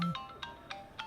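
A phone rings with a short electronic ringtone. Several brief, evenly spaced beeps sound close and clear over a quiet background.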